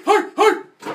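A man imitating a dog bark, two loud, throaty "hoof" barks close to the listener in quick succession, followed by a softer breathy third.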